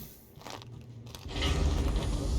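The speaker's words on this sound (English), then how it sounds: "You could hear the crunch of my bones." Bones breaking in a video game: a crunching sound effect starts as a dry, rough crackle and swells into loud, sustained grinding crunches that fill the end of the moment.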